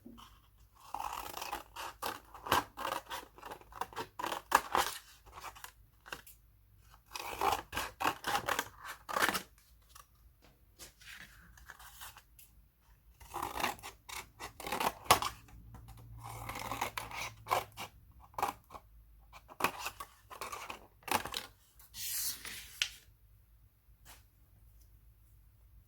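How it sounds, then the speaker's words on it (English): Scissors snip through a paper plate along drawn lines for a butterfly craft, giving repeated close crunching cuts in short bursts separated by quiet pauses. "take your scissors and cut along the lines"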